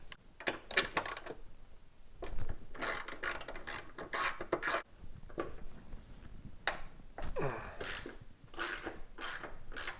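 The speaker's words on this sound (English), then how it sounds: "All I'm doing is simply loosening everything." A ratchet with a 12mm socket loosens the hood bolts on a Subaru STI. Quick bursts of close, crisp ratcheting clicks come in irregular spurts separated by brief pauses, with no voices.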